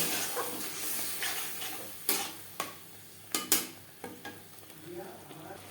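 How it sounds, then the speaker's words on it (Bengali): A spice masala fries in a pan with a little water added for a jackfruit and prawn curry. A steady sizzling hiss is broken by several sharp scrapes and clatters as a spoon stirs against the pan. "দিয়ে দেবো সামান্য পরিমাণে জল মশলা কষাবার সুবিধার জন্য"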